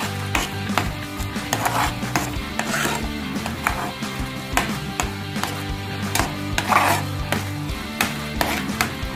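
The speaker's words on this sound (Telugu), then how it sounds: "ఒక్కసారి కలుపుకుందామండి" A utensil stirs a radish paratha filling in a pan, giving repeated scraping knocks and light metallic clinks in an uneven rhythm, close up and steady, with no speech.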